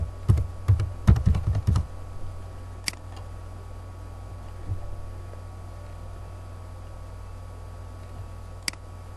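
Quick bursts of typing on a computer keyboard, entering values into a spreadsheet, clatter for about two seconds, then fade to near silence with one lone click later.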